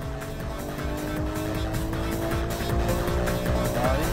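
Race cars including a Porsche, an Evo 7, a GTR and an Impreza run hard on a track, with a loud, steady engine drone, rising and falling revs and some tire squeal throughout.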